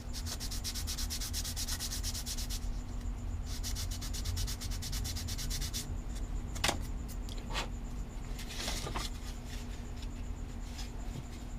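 Sandpaper rubbing over balsa wood, part of wing infill on an Aeronca aircraft: steady close scratchy strokes in long continuous runs, with a few sharper scrapes toward the end and no talk.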